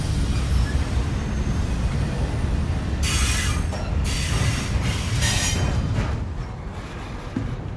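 Close by, a train rolls past on rails with a heavy continuous rumble, joined midway by bursts of high metallic wheel squeal and clatter before the noise eases toward the end.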